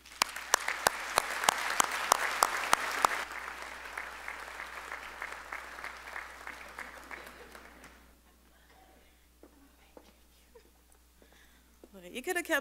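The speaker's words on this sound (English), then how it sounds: "you could have kept the applause going while I had that long walk" Audience applause at an evening college commencement ceremony, loud and dense with sharp individual claps for about three seconds, then a fainter steady patter that fades almost to quiet before a brief swell of clapping at the end.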